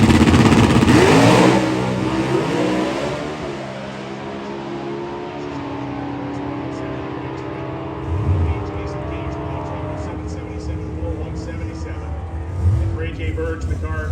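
NHRA drag car fitted with a 318 cubic inch dual overhead cam Coyote-style engine at the Route 66 Nationals, a loud engine roar that fades into a steady rumble with brief surges, heard under continuous commentary.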